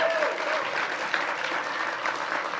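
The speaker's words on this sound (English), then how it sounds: "let's give them an extra loud round of applause" An audience at a law alumni awards ceremony gives an extra loud round of applause, a dense, even wash of many hands clapping throughout.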